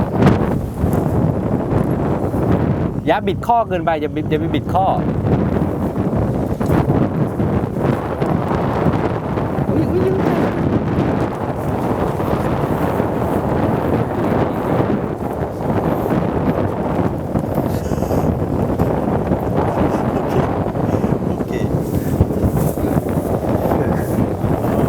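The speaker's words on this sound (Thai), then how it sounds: "วันนี้ลมแรงนิดนึง" Strong wind buffets the microphone during a lesson at a sea bass fishing pond, a steady broadband rumble running the whole time while someone talks over it.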